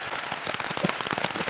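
Heavy rain pours steadily, a dense broadband hiss with scattered pattering hits and no voices, falling during an attempt to cut down a large tree.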